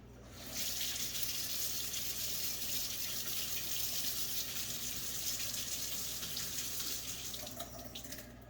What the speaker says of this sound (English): Now I'm gonna go over here, rinse her off.